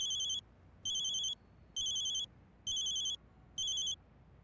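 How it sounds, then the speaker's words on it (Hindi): A telephone rings in five evenly spaced bursts of a bright electronic trill, clear and moderately loud against a quiet room. "किसका फोन है?"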